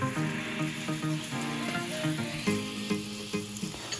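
Onion sautéing in a pan for a Caribbean duck southwest wrap, a continuous close sizzle broken by repeated stirring scrapes and light clinks of the utensil.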